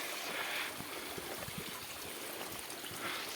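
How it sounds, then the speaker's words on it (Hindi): Fresh spring water welling up from the ground in Kashmir, a soft continuous trickle and gurgle, faint and steady with no voices. "ये देखें पानी कहाँ से निकल रहा है, फ्रेश पानी ज़मीन के अंदर से।"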